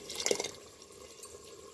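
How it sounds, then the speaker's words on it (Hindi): Water is poured and swished into a kitchen bowl to rinse it while cooking mutton masala, giving a short, faint splashing trickle followed by light dripping. "अब हमने बोल को खंगाल करके पानी डाल दिया है इसमें थोड़ा सा"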